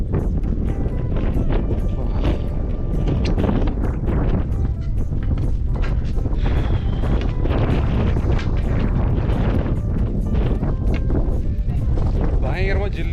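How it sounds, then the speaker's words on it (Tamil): Cold wind buffets the microphone in loud, continuous roaring gusts on a rocky hill pilgrimage trail at Velliangiri Hills near Coimbatore, while someone talks over it. "காற்று அப்படியே ஜில்லுன்னு அடிக்குதுங்க பயங்கரமாக."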